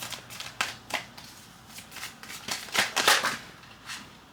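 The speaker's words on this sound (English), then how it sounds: "let's go ahead and shuffle" A deck of tarot cards being shuffled by hand in quick irregular riffles and slaps, close and crisp, with no talking over it.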